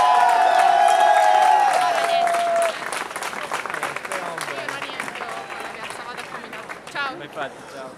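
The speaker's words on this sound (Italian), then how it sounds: "cominciamo subito con un grande applauso al nostro candidato Giuseppe Sottile" Crowd applause and cheering at a mayoral candidate's campaign rally for Giuseppe Sottile, a dense clapping wash beneath a voice over a loudspeaker that fades early, then continued clapping with scattered whoops.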